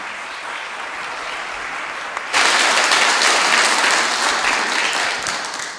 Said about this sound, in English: So just one more round of applause for our speakers who are still here.